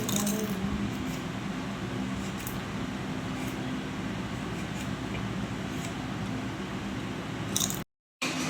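Chips eaten from a packet at a sit-down meal break: steady faint crunching and rustling under a constant background hum, without speech.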